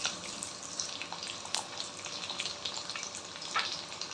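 Chopped garlic sizzling in about two tablespoons of oil in a wok, a steady crackling fry with scattered sharper pops, close and moderately loud with no voices.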